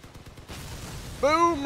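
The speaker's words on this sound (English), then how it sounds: "Boom! Explosions!" Muffled gunfire and explosion blasts in the video game Crossout thump in a low rumble, then a bright rising synthetic tone swells over the noise near the end.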